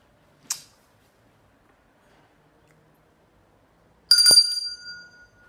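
A small handbell rings once in a bright, sharp burst that decays over about a second, rung to drive away evil spirits in a West African setting, following an earlier faint click; no talking.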